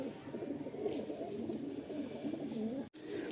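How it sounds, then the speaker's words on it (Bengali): Punjabi Malwai pigeons coo continuously nearby in low, rolling, throaty calls, layered over one another, with a brief dropout near the end. "কাশমা দোয়াশ সাদ্দুম, মালবাই, মালবাই, পাঞ্জাবি মালবাই। রেয়ার পায়রা"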